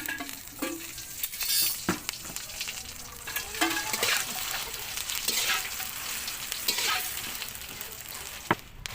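Dried chilies roast in oil in a pan for Maharashtrian kala masala, giving a continuous close sizzle with stirring scrapes and occasional sharp clicks of a spoon, and no clear talk.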